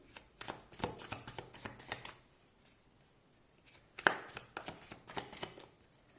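Tarot cards are shuffled and laid out on a table, a quick series of close, crisp slaps and riffling flicks in two bursts separated by a short pause, with no talk.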